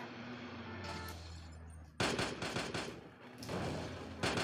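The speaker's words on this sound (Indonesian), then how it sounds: "Woi, menembak kau ya." Gunfire in a police-patrol video game, a steady background hum followed by a sudden burst of rapid crackling shots that fades and then returns briefly at the end, with no talk.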